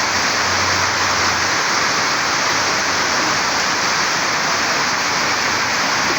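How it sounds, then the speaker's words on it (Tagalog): Heavy rain pours steadily over a garden beside a small shop, a dense, continuous wash of hiss with no pauses, loud and close throughout. "Lakas po ng ulan."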